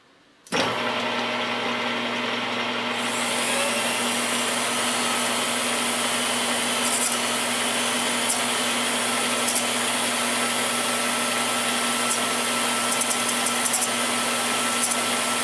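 A shop-made tool post grinder mounted on a lathe, spinning backwards at 600 RPM, starts abruptly and then runs with a steady, loud mechanical whir and hum, with a high hiss joining a few seconds in. No voices are heard.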